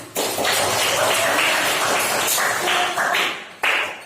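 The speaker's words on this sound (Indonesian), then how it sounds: "tepuk tangan buat kalian semuanya" A group of students in a school guidance session clap together, a dense burst of hand claps that runs steadily for a few seconds, pauses briefly, then picks up again near the end.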